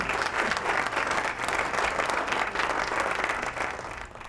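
A studio audience at a televised Ramadan quiz competition applauds steadily, a dense wash of clapping that stays even throughout and then tapers off slightly at the end.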